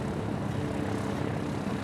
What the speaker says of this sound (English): We load up into 3 de Havilland Beaver bush planes and slowly lift off the river into the Alaskan sky.